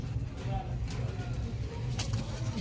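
Pigeons coo softly at a busy pigeon market, low murmuring calls beneath background chatter and a voice speaking nearby.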